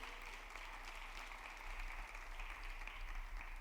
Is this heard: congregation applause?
yes